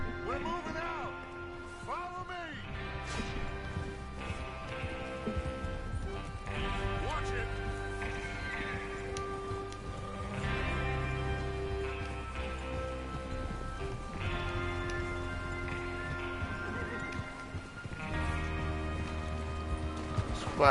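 Horses ridden in Red Dead Redemption 2 make rhythmic clip-clop hoofbeats at a steady trot, moderately loud, with game music and people talking over them throughout.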